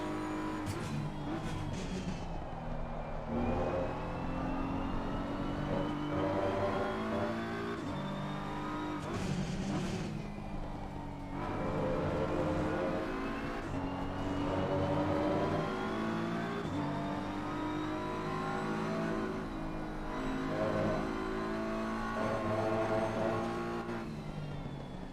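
A Porsche race car in the Rennsport racing game roars continuously, its engine revving up and down through gear changes with occasional tyre squeal, loud and steady throughout with no pauses.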